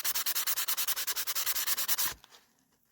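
Sandpaper rubs back and forth across a rainbow boulder opal stone in about seventeen quick, even strokes close to the mic, then stops, leaving a faint tap and near silence.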